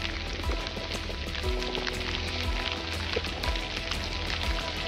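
Rain falls steadily in the Tatra mountains, a dense, even hiss of drops pattering on surfaces with a few soft thumps underneath, continuous and fairly close, with no talking.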